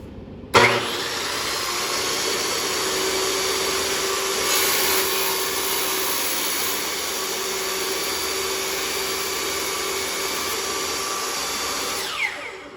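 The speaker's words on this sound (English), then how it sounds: "And then we can go ahead and turn it on and cut." Tile saw starting up with a sharp thump, then a loud steady high whine as it runs and cuts, holding level before spinning down at the end.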